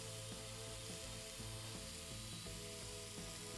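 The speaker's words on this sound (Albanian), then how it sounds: "Dhe do t'i vendos në tigan që të më piqe." Eggplant slices fry in a pan with a low, steady sizzle, faint and close, with a few soft scraping knocks at intervals and no talk.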